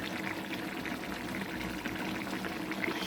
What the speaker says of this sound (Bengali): সর্ষের তেলও দিয়ে দিলাম